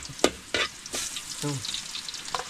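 Garlic sautéing in a pan with a steady sizzle, broken by a few sharp clacks and scrapes of stirring and some brief tonal clinks, close and fairly quiet throughout.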